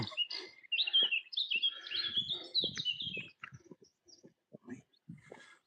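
Birds chirp and tweet in a riverside forest, bright overlapping calls close by for the first few seconds, then sparser calls with faint movement and brief background voices.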